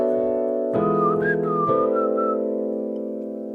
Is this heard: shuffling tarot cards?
no